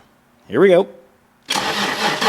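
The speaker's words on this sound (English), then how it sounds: "let's see if this thing cranks over" A BMW 735iL cranks over and catches, a loud, dense broadband roar of starting and running that holds steady after a short spoken line and a pause.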